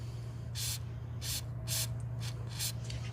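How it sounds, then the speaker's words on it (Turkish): Contact spray is hissing onto a broken wheel bolt on a Renault 9 Broadway. It comes in five short bursts at roughly even intervals, close and fairly loud over a low steady hum. "şöyle kontak sprey sıkıyorum ki e, rahatça sökülebilsin diye arkadaşlar"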